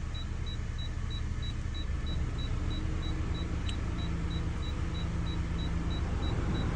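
A Honda car engine running on LPG idles steadily with a low rumble and the whir of the air conditioning fan, plus a faint regular electronic beeping; no one speaks.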